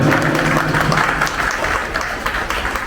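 Audience applause at a school alumni association's second anniversary celebration, a dense steady clapping of a crowd filling the whole stretch, loud and close throughout.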